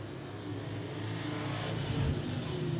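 Race cars circle the turns of 411 Motor Speedway, with a steady engine drone that swells slightly as the cars come around, heard from a distance.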